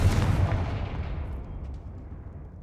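Fiery blast of the Confringo spell cast from a wand in the Hogwarts Legacy video game, a loud explosive burst at the start that rolls off into a fading rumbling tail, with no talking.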